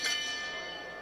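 A boxing ring bell at a cruiserweight pro fight strikes once, its bright metallic ring decaying quickly over about a second.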